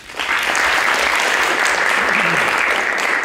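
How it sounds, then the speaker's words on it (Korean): Sustained applause from the audience at a university presidential candidates' public debate, dense and steady clapping that swells quickly and holds evenly to the end. "다시 한번 큰 박수를 부탁드립니다"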